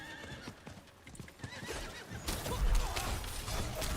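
Horse in the video game Diablo 4 clip-clops with rhythmic hoofbeats and lets out a close, loud neigh, the trotting growing denser and louder partway through.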